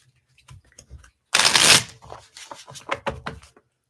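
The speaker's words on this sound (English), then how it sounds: "Let's throw some cards on that." Tarot cards shuffled by hand in a riffle and bridge, a few light taps and flicks leading into a loud close burst of rapid papery riffling, then scattered cards settling into place.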